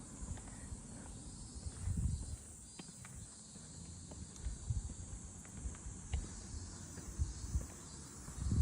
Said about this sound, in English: Oh, you can hear cicadas.